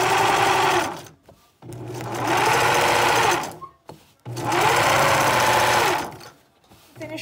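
A sewing machine stitches a dress seam in three loud, steady runs, each lasting a couple of seconds and separated by short pauses.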